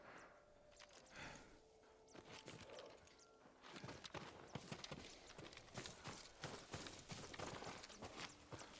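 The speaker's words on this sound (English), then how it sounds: "A farm horse. Never seen battle." A farm horse in the Ghost of Tsushima video game, its hooves clip-clopping in a steady, close walking rhythm that grows louder partway through.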